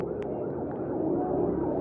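A faint, steady wail of an ambulance siren sounds in the distance beneath low traffic rumble in a flooded area.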